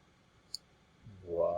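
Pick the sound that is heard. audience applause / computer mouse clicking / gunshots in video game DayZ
computer mouse clicking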